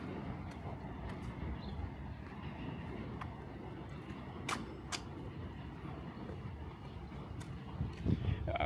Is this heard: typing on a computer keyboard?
no